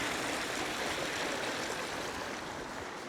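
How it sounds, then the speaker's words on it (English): A small stream flowing beside a gill on a hillside, a close, steady rushing and burbling of water that fills the whole moment evenly, easing slightly toward the end, with no voices. "you've got a little stream here"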